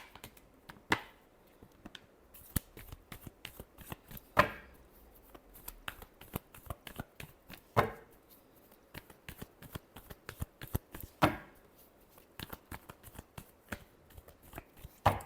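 Tarot cards are shuffled by hand in a steady run of crisp riffling flicks and slaps, with a few sharper louder snaps along the way, close up and with no talking.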